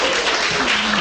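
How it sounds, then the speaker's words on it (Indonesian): An audience claps together at a book discussion, a dense steady patter of applause filling the room with a voice briefly mixed in. "Tepuk tangan untuk Ustaz Abu Hilal."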